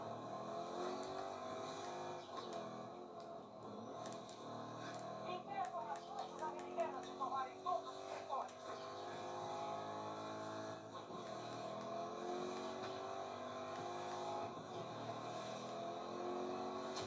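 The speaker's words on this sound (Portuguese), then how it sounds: "Vou escolher o carro mesmo." Car engine in a video game, a continuous whine that rises and falls as it revs for the whole stretch, steady and moderately loud with some rattly bursts in the middle.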